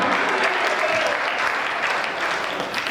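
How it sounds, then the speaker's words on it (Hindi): Audience applause at a Hindi comedy poetry gathering, a dense burst of clapping from a crowd that carries on steadily for a few seconds and eases slightly toward the end. "ताली वाली बजाओ भाई साहब।"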